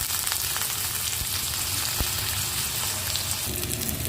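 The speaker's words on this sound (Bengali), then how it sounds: "পেঁয়াজটা মোটামুটি ভাজা হয়ে গেছে" Onions fry in rice bran oil in a wok, a steady soft crackling sizzle with a few sharper pops, continuous and close with no voices.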